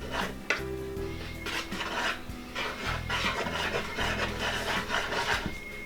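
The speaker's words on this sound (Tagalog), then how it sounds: "ay paghahalo-haluin po natin itong ating mga dry ingredients" Dry ingredients with a tablespoon of baking powder being stirred in a bowl for puto cheese, a steady rough scraping and rubbing under continuous background music.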